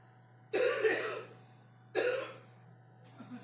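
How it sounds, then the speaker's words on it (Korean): An elderly man in a hospital bed coughs in two harsh, close bursts about a second and a half apart, followed by a fainter throat-clearing rasp over a low steady hum. "영감님 기침이 많은 것 같아요."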